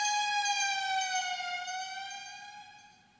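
A cartoon fire engine siren wails in one long sustained tone that slowly fades, heard alone.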